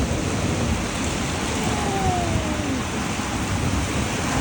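Steady heavy rain pours down in a dense, unbroken hiss, with a low rumble of thunder rolling beneath it throughout.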